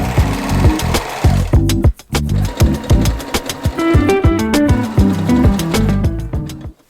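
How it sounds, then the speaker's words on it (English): Sewing machine stitches a dress side seam in loud, close, rapid mechanical runs, stopping briefly and restarting in short bursts of steady clattering. "sewing the side seam top to bottom"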